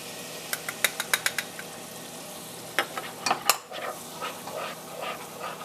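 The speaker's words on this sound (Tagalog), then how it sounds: "Okay, ihalo lang natin." A flour, salt and garlic powder mixture is stirred in a pan for a mac n' cheese sauce, with a run of quick scraping taps at first, then a burst of clatter and softer stirring with light frying noise underneath.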